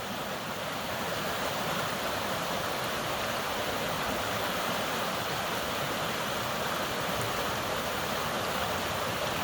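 An overfull creek rushes past a pump house in a steady, dense roar of flowing water, constant and broadband with no pauses, close and moderately loud throughout.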